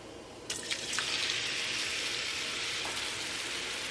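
Onions frying in hot oil in a karahi give a steady, close sizzling hiss that holds at an even level throughout, with a few brief clinks and stirring sounds near the start.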